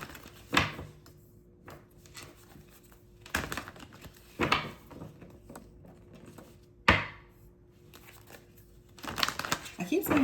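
Tarot cards are shuffled in a series of sharp riffling and slapping bursts separated by quiet gaps, close and fairly soft, ending in a longer rustling flurry.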